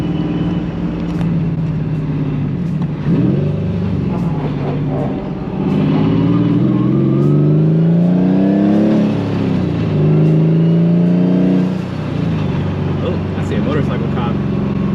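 A 500 hp Nissan S15 drives with a loud, mellow exhaust drone that rises and falls through repeated revving and accelerating. The sound is close and steady, and a voice talks over it at times.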